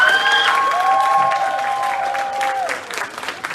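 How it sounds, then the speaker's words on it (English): A banquet audience applauds for the coaches at a high school fall sports banquet, with steady clapping that fades after a few seconds while a sustained synthesized tone plays over it. "please give them a round of applause"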